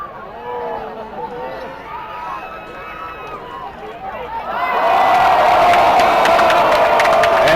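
Crowd at a quidditch world cup match bursts into loud cheering and whoops after a quieter stretch of commentary and chatter, swelling and holding strong near the end.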